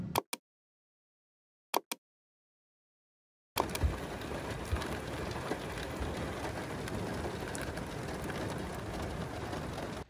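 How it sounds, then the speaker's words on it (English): Steady rain falling outside a parked Toyota Prius, heard from inside the car as a constant soft patter and hiss that begins abruptly after a few brief clicks and continues evenly. "It is raining."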